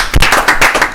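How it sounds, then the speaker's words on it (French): A studio audience on a French-language TV talk show claps in short, uneven bursts, loud and close, for about a second. "On peut applaudir pour Tonnerre."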